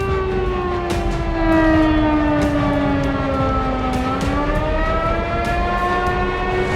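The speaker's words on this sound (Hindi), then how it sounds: "कीव में बज रहे रेड अलर्ट सायरन के बीच लोग बंकर्स में अपनी जान बचाने के लिए" A red alert air raid siren sounds across Kyiv, a loud continuous wailing tone that slowly falls and then rises again, heard alone with faint scattered clicks.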